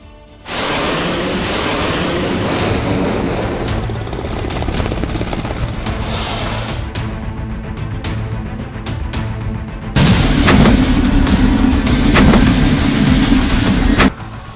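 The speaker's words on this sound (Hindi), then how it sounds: "रात के अंधेरे में कैसे फाइटर जेट्स गंगा एक्सप्रेसवे पर उतरे" Fighter jets landing at night on the Ganga Expressway make a loud, continuous jet roar that swells sharply partway through before cutting off.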